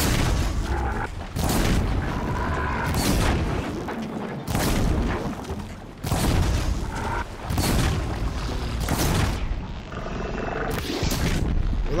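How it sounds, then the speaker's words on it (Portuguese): Repeated booming explosions in the video game Horizon Zero Dawn burst one after another, loud and close, with dense rumbling noise filling the gaps between blasts. "Explodir é bom, faz uma explosão."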